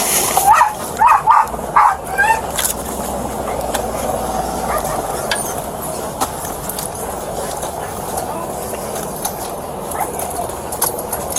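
A police K-9 barks during a SWAT arrest of a suspect in a car. A series of sharp, loud barks comes close in the first seconds, then fades into a noisy, rumbling scene with people shouting.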